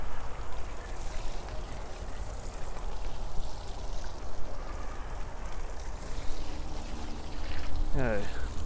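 Fire hose nozzle spraying a steady, loud rush of water to rinse a tire and wash off Tire and Rubber Rejuvenator, with continuous broadband hiss throughout and a brief squeak near the end.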